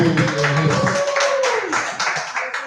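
Audience clapping for a comedian at an open mic, a continuous loud patter of hands with voices mixed in underneath.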